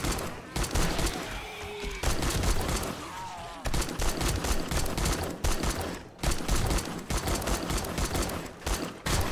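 Rapid bursts of gunfire ring out in the survival game 7 Days to Die, loud volleys broken by short pauses, with a brief gap partway through.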